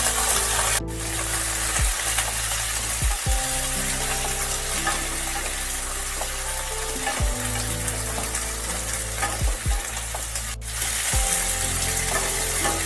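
Chopped flat beans sizzle in a wok, with a continuous frying hiss broken by several scraping stirs of a spatula against the pan. No one speaks.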